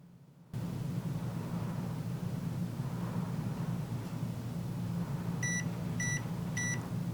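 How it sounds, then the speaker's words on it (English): A heat press used for sublimating a wind spinner gives three short, evenly spaced timer beeps near the end, over a constant loud machine hum. "You should hear a gentle beep when the timer goes off."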